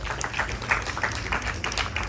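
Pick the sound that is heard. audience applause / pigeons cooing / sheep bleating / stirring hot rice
audience applause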